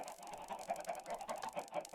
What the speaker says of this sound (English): Oh, that's a lot of chickens.